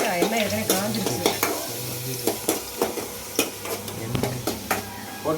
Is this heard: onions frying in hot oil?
yes